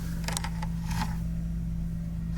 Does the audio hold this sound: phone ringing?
no